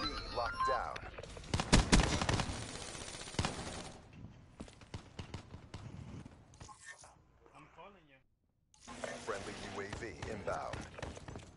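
Loud shotgun blasts and other gunfire erupt in a first-person shooter, heaviest in the opening seconds, then scattered shots, clattering and footsteps follow, with a brief near-silence before busy action noise resumes; players talk.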